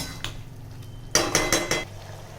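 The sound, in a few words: stirring chicken with spices in a pan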